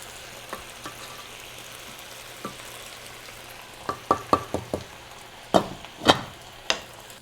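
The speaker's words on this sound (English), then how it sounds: "All right, so the vegetables are gonna be cooking." Vegetables cooking in a pan for Cape Verdean shrimp, heard as a low steady sizzle with a handful of sharp stirring clacks and scrapes, clustered toward the end and loudest in the last seconds.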